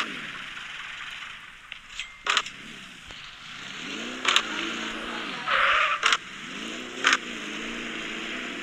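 A Chevrolet sports car engine in the mobile driving game Madout2 hums steadily while driving, with several short sharp bursts of revving or scraping noise breaking through the drone.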